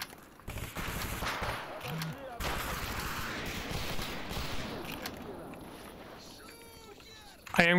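Shotgun and other gunshots in the shooter game STALKER: several sharp blasts in a rapid cluster early on, then scattered fainter shots, with someone talking over the action.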